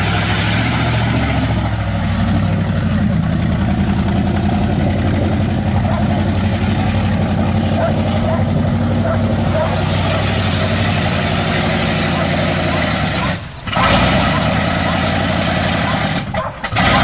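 A 1977 GMC Sierra truck engine runs rough at idle while mudding, a steady low rumble throughout with brief dips, under people talking.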